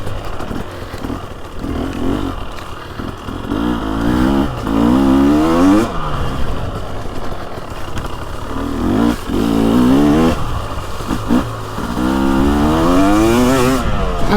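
A 2023 TX300 Heritage Edition dirt bike ridden on a leaf-covered trail through autumn woods, its close two-stroke engine revving up and down in repeated rising and falling bursts as the rider works the throttle.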